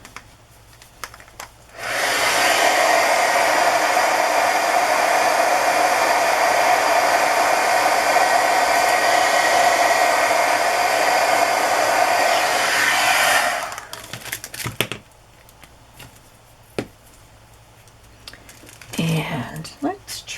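Hair dryer blowing to dry paint on a craft key, a loud, steady close-up whir that runs for about eleven seconds before cutting off, followed by light handling noises.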